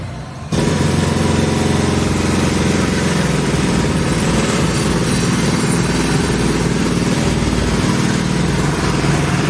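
A minivan engine, running again after a new fuel tank and fuel filter were put in, starts abruptly and then runs at a loud, steady idle with a constant rough rumble and no voices.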